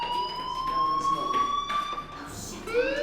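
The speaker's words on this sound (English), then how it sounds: "Hey, do you hear that fire alarm?" Electronic fire alarm in the Life is Strange video game, a steady high electronic tone that holds for several seconds and then bends upward, heard over quiet game ambience.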